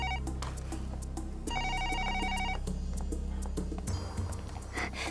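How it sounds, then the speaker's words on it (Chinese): A telephone ringing indoors with repeated bright electronic tone bursts in a steady pulsing pattern, loud and continuous, set over a low droning music-like background with no talk. "电话，我去接电话啊。"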